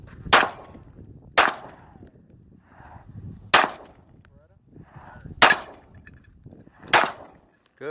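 Five sharp, loud pistol shots from a SIG Sauer P229 Legion at a shooting range, spaced one to two seconds apart with quiet gaps and faint background sounds between them.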